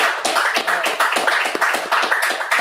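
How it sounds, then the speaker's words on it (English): A round of applause from a gathered audience, dense overlapping hand claps sustained for a few seconds at steady loudness, with no voices over it. "Give a round of applause for them."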